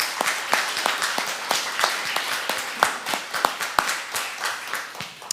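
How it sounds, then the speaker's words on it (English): Church congregation applauding during a service, a modest group clapping with distinct, sharp individual claps in a loose, uneven rhythm, fairly close and tapering slightly toward the end. "How about a round of applause for April?"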